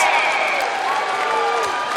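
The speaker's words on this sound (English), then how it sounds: "Snider faithful up and cheering." Snider High School basketball fans cheering in the gym during the game against Homestead, a steady loud crowd roar with applause and whistles under a tonal announcer-like voice talking over it.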